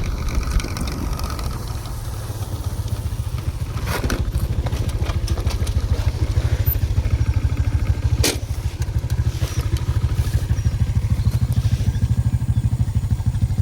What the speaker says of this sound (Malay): bunyi motor yang kuat tu buat saya confident